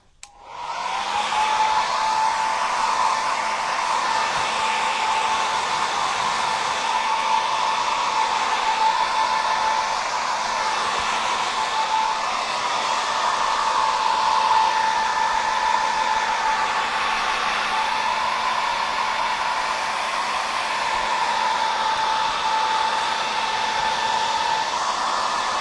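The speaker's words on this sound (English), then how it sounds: "Use my blow dryer." A hair dryer blows continuously at close range, a steady whooshing hum with a faint whine that holds for the whole stretch.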